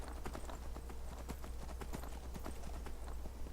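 A horse gallops under a rider in the video game Skyrim, its hooves giving a quick, regular clip-clop that runs close and steady from start to end.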